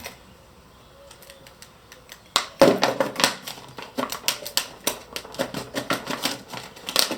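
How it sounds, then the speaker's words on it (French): A utility knife slices along a traced line while making a homemade rocket, giving a quick series of sharp, close scratchy clicks and scrapes after a quiet start. "on va prendre un cutter et on va venir découper au niveau de la ligne"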